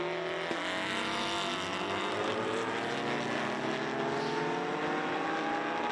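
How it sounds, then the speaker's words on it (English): Porsche Rennsport race cars pull away at a motorsport festival in Adelaide, a loud, dense roar of several engines whose pitch climbs steadily throughout with no voices. "as we see the Rennsport cars take off"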